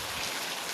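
Steady rain falls, a dense broadband hiss of drops landing on surfaces, continuous and fairly loud with no voices over it.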